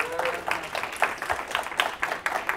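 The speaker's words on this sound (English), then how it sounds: "Give yourselves a round of applause" A crowd claps in a sustained burst at a speaking event, steady and fairly close, with brief stray voices in the room.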